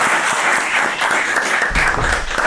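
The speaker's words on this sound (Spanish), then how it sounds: "me gustaría que mi público le dé un fuerte aplauso a José Luis" A studio audience on a dental talk show claps steadily, dense, even applause without a break, close and fairly loud.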